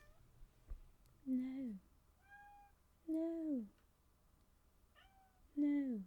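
A pet cat meows three times indoors, drawn-out and fairly close, with quiet gaps between calls and a faint hum in the background.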